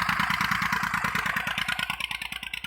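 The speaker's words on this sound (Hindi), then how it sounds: "डैम नाले का पानी ले रहा है ये ट्रैक्टर और ज़मीन को सैराब कर रहा है।" A tractor engine runs steadily at a dam drain while pumping water onto farmland, a close, loud rhythmic chugging with clattering mechanical knocks and no voices.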